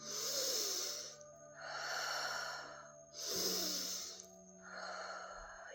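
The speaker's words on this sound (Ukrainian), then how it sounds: "зробіть вдих носом і видих ротом" Slow, deep breathing as a calming exercise: two cycles of air drawn in through the nose, each followed by a long exhale through the mouth, close and audible, with no talk.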